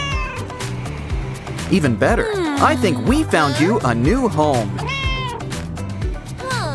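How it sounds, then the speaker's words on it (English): A cat in a cardboard craft basket meows several times in rising, wavering calls, close and clear, while someone talks over it with soft music playing underneath. "did someone order a cat in a basket?"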